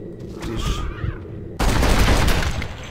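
Gunshots in the zombie video game Undead Nightmare: a dense, loud burst of rapid firing starts abruptly partway through and continues to the end, with quieter game ambience and faint sounds before it.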